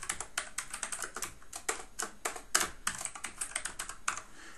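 Typing on a computer keyboard while composing an email, a quick irregular run of crisp, close key clicks continuing throughout without any talking.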